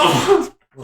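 One sharp, loud sneeze up close, followed by a brief silence and a short spoken word.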